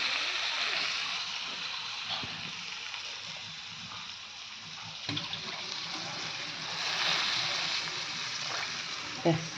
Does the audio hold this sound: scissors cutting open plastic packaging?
no